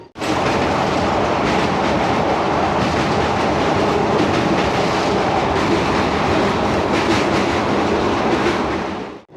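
A passenger special train running from Bardhaman toward Puri roars loudly and steadily from inside, with continuous rumble and rhythmic wheel clatter on the rails and no voices.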